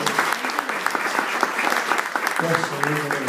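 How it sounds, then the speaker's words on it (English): A church congregation clapping hands, a continuous patter of applause with voices rising over it toward the end. "Clap your hands."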